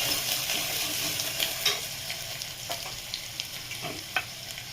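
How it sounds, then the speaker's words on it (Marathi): Chopped onion sautés in a pan with a constant bright sizzle, broken by light scraping and stirring strokes of a spoon, close and steady throughout. "कांदा चांगला परतून घ्यायचा आहे."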